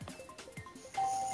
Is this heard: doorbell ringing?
yes